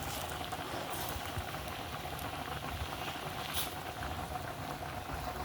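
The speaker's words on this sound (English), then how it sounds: "you can just keep on stirring as our blended mixture continues cooking" A blended coconut sauce simmers in a pot, a soft continuous bubbling and crackling patter, quiet and close with occasional faint clicks.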